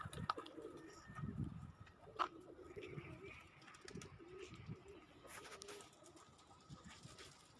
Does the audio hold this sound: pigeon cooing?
yes